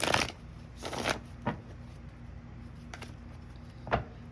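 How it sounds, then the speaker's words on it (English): Love Oracle cards are shuffled for a reading in a few quick riffling bursts. Softer single snaps and taps come between the bursts, close up and fairly quiet, with no one talking. "going to pull a few cards to start with from the Love Oracle as well"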